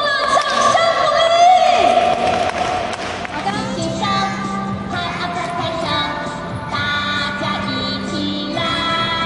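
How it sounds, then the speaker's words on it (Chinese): An audience at a food-safety briefing on poisoning bacteria gives a round of applause with some cheering, mixed in with someone speaking over it. "掌声鼓励"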